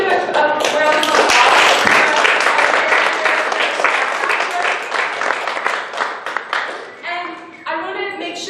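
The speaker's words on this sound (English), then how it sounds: "Why don't we give a round of applause?" Audience applause at a youth mental health forum theater, a dense burst of many hands clapping loudly that thins toward the end as a few voices start to speak.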